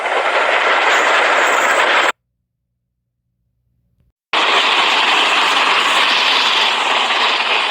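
A steam railway engine runs with a loud, steady rushing roar that drops to silence for about two seconds, then returns just as strongly.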